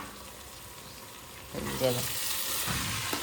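Flattened rice (poha) being stirred and tossed in a frying pan, a soft sizzle with scraping and stirring noises that grow louder halfway through, with a brief spoken word.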